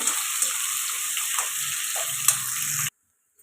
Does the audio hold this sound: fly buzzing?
no